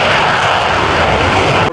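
An airplane engine at full throttle during a touch-and-go at the Dayton Air Show, a loud steady roar held close before it cuts off abruptly.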